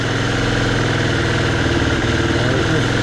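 A 2019 Husqvarna FE350 dirt bike engine runs unevenly at idle, its low thumping firing pulses stuttering and missing as it struggles to stay running, steady and close throughout with no talk.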